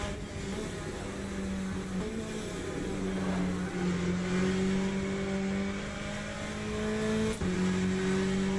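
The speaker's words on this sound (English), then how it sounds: "Here comes Taylor now across the start finish. See if he can close that up. The RPMs and the speed" Race cars in the Le Mans Ultimate racing game at Sebring, a GTE race, give a steady loud engine drone whose pitch climbs slowly through the gears, with a brief shift dip and no talk.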